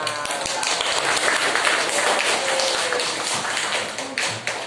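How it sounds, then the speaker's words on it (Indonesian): Classroom applause from students during a school counseling lesson, a dense, continuous patter of many hands clapping at fairly even loudness throughout. "Tepuk tangan, tepuk tangan."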